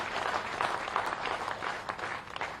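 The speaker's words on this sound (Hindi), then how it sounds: "एक बार फिर से तालियां बजा के" Crowd at a Madhya Pradesh BJP political event breaking into applause, a continuous dense roar of many hands clapping with no gaps, fairly loud and close.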